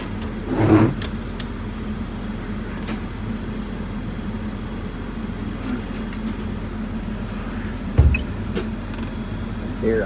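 MCI coach bus on a test drive, with a steady low engine drone and road rumble heard from inside the cabin, plus a couple of brief clunks along the way.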